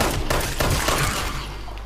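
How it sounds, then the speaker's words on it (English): Quick gunfire at a mole rat enemy in Fallout 76, a short loud burst of several close shots in fast succession over game ambience, fading slightly toward the end, with no talk. "Who's waiting very nicely for us to finish shooting him."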